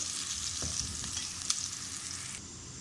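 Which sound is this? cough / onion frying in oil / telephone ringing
onion frying in oil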